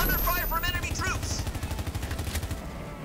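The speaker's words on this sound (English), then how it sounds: "Under fire from enemy troops!" Rapid automatic gunfire from the Halo Wars 2 video game rattles in a fast regular burst, preceded by a brief game voice line and distorted in-game effects.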